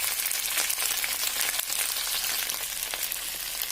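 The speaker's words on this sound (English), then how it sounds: "And I'm going to fry it up" Chunky pieces of okra (bhindi) frying in hot oil give a dense, continuous crackling sizzle, close and fairly loud, with no voices over it.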